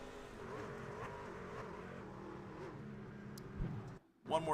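A racing truck in iRacing roars around dirt-oval Eldora Speedway under steady commentary, then the engine note suddenly cuts out before a sharp burst of skid and engine noise at the end.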